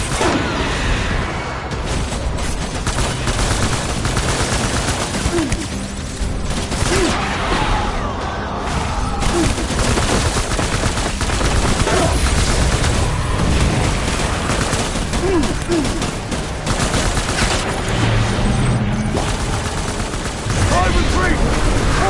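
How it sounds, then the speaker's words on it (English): Continuous gunfire in the video game Death Stranding, dense bursts and rapid shots layered over a loud, busy game soundscape with occasional voices. "Open fire."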